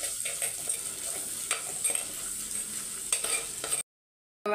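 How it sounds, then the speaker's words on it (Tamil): Onions sauté in coconut oil with spices for a duck curry, giving a faint, steady sizzle broken by occasional stirring scrapes. The sound cuts to silence near the end before briefly resuming. "வெங்காயம் வந்து நல்லா வதங்கணும்."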